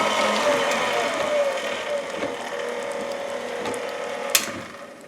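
A KitchenAid meat grinder attachment churns meat through its plate, giving a steady mechanical whir and rattle with gear-like ticking throughout and one sharp click near the end, with no talking.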